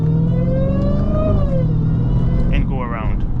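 Dodge Hellcat car cruising through Miami traffic late at night, its engine a steady low rumble with a rising then falling drone, loud and close throughout, with a brief higher tone near the end.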